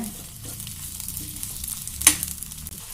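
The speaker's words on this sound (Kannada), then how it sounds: "ಈಗ ಅದ್ರಾಗ ಹೀರೆಕಾಯಿ ಹಾಕ್ತೀನಿ ಸ್ವಲ್ಪ ಹುರಿತೇನೆ ಅವನ್ನ" Ridge gourd pieces fry in a little oil in a kadai, a steady soft sizzle with one brief louder hiss and scrape partway through, close and alone.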